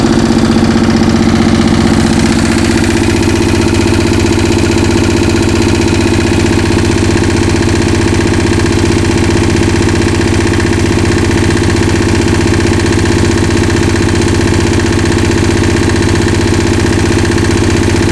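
A 65-year-old Onan diesel generator set runs loud and close, a steady, heavy engine drone with constant low throbbing and mechanical vibration that holds unchanged throughout, after a slight shift in pitch early on.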